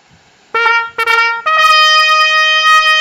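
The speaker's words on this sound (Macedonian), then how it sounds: "слушнавме труба." A trumpet plays two short bright notes and then one long sustained tone, loud, close and alone.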